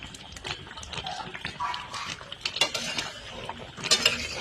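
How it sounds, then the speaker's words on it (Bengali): Mango pieces and jaggery being stirred in a pan, with scraping and clinking of a utensil against the pan in an irregular rhythm, close and moderately loud with some wet, watery texture. "গুড় দিয়ে এবার শুধু আমটাকে ভালো করে নেড়ে নিতে হবে।"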